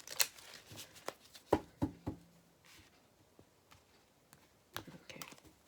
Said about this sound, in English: I'm going to shuffle the deck one more time